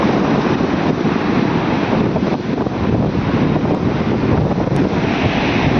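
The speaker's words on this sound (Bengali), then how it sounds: "ঢেউ তো আস্তে আস্তে অনেকটা কাছাকাছি চলে এসছে" Sea waves wash continuously at Gangasagar beach, a loud, dense roar of surf mixed with heavy wind buffeting the microphone, steady throughout with no voices.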